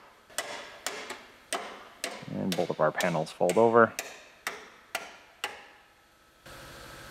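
Hammer striking a kinked steel frame rail on a Pontiac Grand Am, about ten sharp, evenly spaced metallic blows, with someone speaking briefly between them.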